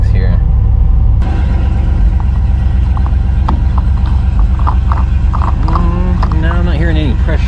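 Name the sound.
truck engine warming up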